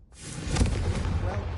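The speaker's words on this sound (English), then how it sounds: "I think you'll find that a Confringo cast travels" Confringo fire spell cast in the Hogwarts Legacy video game, a continuous rumbling, fiery whoosh with a heavy low roar that starts abruptly and holds steady and loud throughout.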